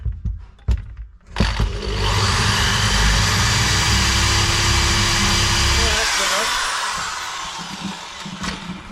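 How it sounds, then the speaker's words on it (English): Power drill boring a small pilot hole through arborite laminate on a cupboard, a loud steady whine lasting about five seconds before winding down, preceded by brief handling knocks and a voice. "just a small pilot hole for my screw to start"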